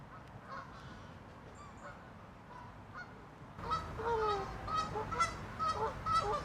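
Geese honk repeatedly, faint and sparse at first, then a loud overlapping flurry of calls that keeps going to the end.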